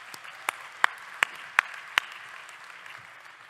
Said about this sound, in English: One more round of applause for Pat Lisinski